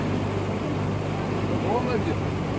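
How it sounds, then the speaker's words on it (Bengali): A motorboat cruises along a river in the Sundarbans, its engine giving a steady, close low hum under a constant wash of water and wind, with faint voices in the background. "বোটটা এবার উল্টো দিকে যাচ্ছে"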